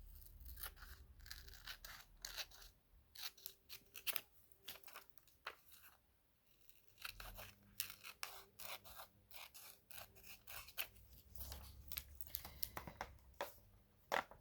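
Scissors cut through paper up close, in a long run of quick crisp snips and rustles with brief pauses, quiet and alone without speech.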